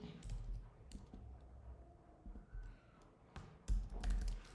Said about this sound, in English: my typing isn't as good